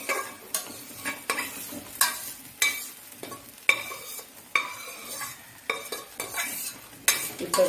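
Moong dal is stirred in hot ghee for a sweet, a spoon scraping the pan in regular strokes every half second or so, each with a sharp clink over a light sizzle; no voices.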